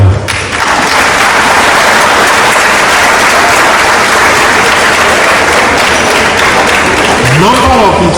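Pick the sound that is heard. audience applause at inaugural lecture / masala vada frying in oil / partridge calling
audience applause at inaugural lecture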